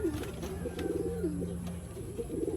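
A bird coos in soft, repeated low-pitched phrases, fairly close, with a faint chirp and steady background noise.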